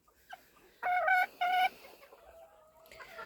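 Broody hens wandering a backyard poultry yard cluck and squawk: two loud, drawn-out bursts close by, then a thinner trailing call and a short final squawk, over quiet surroundings.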